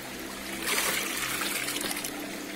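Water rinsing and sloshing through a gold pan outdoors while panning for gold, a steady nearby trickle and splash that swells after the first half second and runs continuously.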